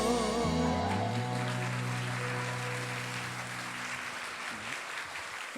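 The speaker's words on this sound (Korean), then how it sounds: "뜨거운 박수로 격려를 전해주시면 감사하겠습니다" Congregation applauding during a live Sunday church worship service, a broad wash of clapping that gradually swells while sustained music tones ring underneath at first, then fade out.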